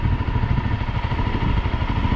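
Honda CRF250L dual-sport motorcycle idling in first gear at a stoplight, a steady close single-cylinder putter with light mechanical clatter, continuous and fairly loud throughout.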